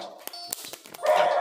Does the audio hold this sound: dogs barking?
yes